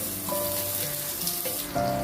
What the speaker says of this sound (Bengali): এখন আমি এই আলুগুলোকে ভাজতে দিয়ে দেব এর সঙ্গে আমি একটু লবণ আর হলুদ দিয়ে দিচ্ছি